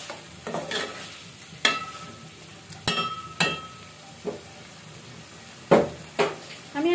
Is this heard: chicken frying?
yes